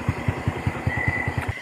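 A motorcycle engine idles close by in an even, throbbing chug of about five pulses per second, then cuts off abruptly near the end.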